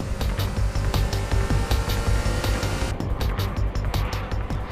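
Honda Civic Type R cars, including a 1996 model, accelerating hard through the gears: a loud, steady engine roar with a droning low growl throughout, no voices.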